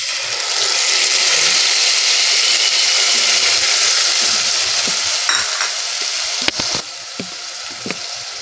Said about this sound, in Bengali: একটু কষবো এটাকে তেল বের হয়ে যাওয়া পর্যন্ত